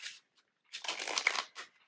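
Soft, close riffle of tarot cards being shuffled, a few brief papery bursts separated by short silences.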